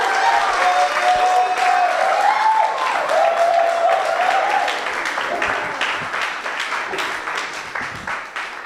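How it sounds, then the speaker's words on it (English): Sustained applause from an audience at a Three Minute Thesis research competition, steady dense clapping that slowly tapers toward the end, with a few voices mixed in. "Can we please give them all a round of applause?"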